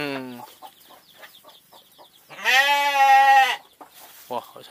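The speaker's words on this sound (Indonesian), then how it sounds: "ini dombanya ya." A sheep bleats once in a long, loud, wavering cry near the middle, with shorter animal calls before and after, close by and set among quiet background sounds.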